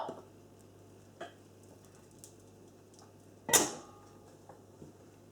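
A soap cutter chops through a loaf of cold process soap coloured with carrot puree, one sharp close cut over a quiet room hum, with a few faint clicks around it.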